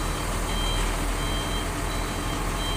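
A cement-loaded trailer truck backs up with its reversing alarm beeping steadily and loudly, continuous over a rumbling diesel engine drone, with no talk.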